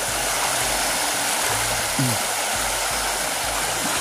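A river rushes steadily in an outdoor rural spot, a loud continuous wash of flowing water with a low hum running underneath and no voices.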